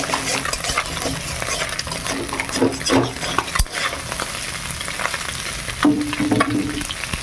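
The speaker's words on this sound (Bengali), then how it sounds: "এই মাছগুলো ভাজা হয়ে গেছে তুলে নেই" Small chela fish sizzle and crackle steadily in a hot pan, with occasional scrapes of a spatula stirring them; no talking.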